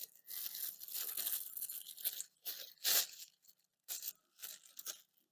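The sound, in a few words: scissors cutting the handles off a plastic bag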